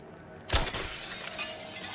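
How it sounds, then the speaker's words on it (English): Glass shattering in a video game: a sudden sharp crash after a brief quiet moment, followed by scattered tinkling shards and a lingering ambient hum. "Break the glass."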